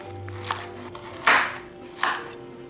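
A knife chops through carrots on a board with about three sharp, distinct cuts spaced unevenly across a couple of seconds, close and clear.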